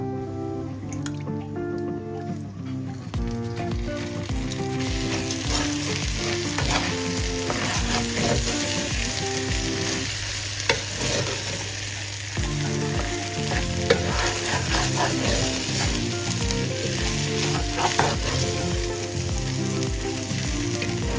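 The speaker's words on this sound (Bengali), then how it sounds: "এখন আমি গ্রেভিটা দিয়ে দিব আগে, মানে ইলিশ মাছের ঝোলগুলা।" Hilsa fish gravy poured into rice frying in a pot for hilsa polao, a loud continuous sizzle with dripping and stirring sounds, steady throughout with music playing underneath.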